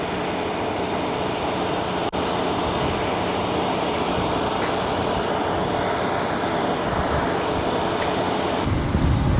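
A crane extends its boom to lift a generator, giving off a continuous loud, steady engine and hydraulic drone close by, with a brief knock early on and a shift in tone near the end.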